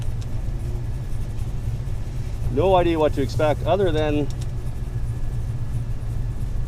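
A 1981 Camaro Z28 pro-touring car idles on a test run with a steady, low engine rumble throughout. Someone talks over it briefly near the middle.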